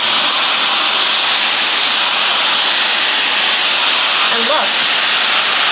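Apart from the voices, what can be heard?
Dyson Supersonic hair dryer blowing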